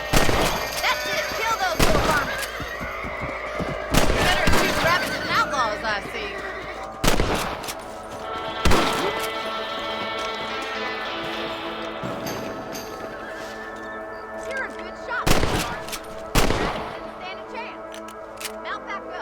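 Rifle fire aimed at rabbits in Red Dead Redemption: several loud, sharp shots spaced irregularly, each followed by ringing decay, mixed with horse neighs and hoofbeats and occasional game sound.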